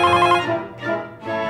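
A telephone rings in a home, a short bright electronic ring that comes in repeated bursts, close and clear with no talk over it.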